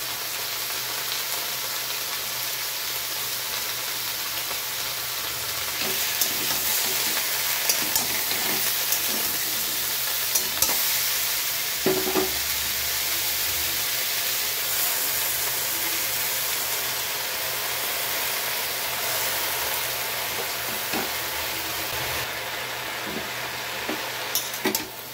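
Food fries in a pan with salt and turmeric added, and a soft, steady sizzle runs throughout with scattered small clicks and taps and no talking.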